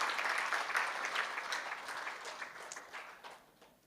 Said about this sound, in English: I think this deserves a huge round of applause for our Sahib Dada.